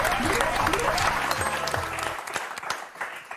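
The studio audience of the French game show Motus breaks into sustained applause, starting under a fading musical jingle and carrying on alone until it thins out.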